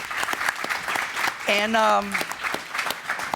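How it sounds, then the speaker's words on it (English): Applause from a panel audience fills the room in a steady crackle of many hands clapping, while a voice speaks briefly partway through. "Let's give a big round of applause for our panelists here."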